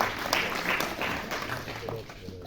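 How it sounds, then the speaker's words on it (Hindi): Audience at a book release function clapping, a moderate burst of many hands that fades toward the end, with some voices mixed in. "आपकी तालियों के साथ।"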